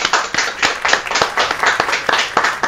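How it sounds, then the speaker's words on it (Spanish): A small audience at a local TV talk show interview claps to welcome a young guest, with quick, uneven handclaps that are close and lively and no voices over them. "Vamos a darle un fuerte aplauso a la chica Yoxibé Tesorero."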